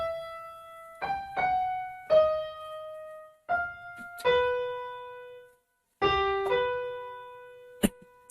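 A keyboard plays the opening phrase of a theme from Harry Potter with both hands, slow separate notes and chords each left to ring, ending on a short high accent, quiet and alone.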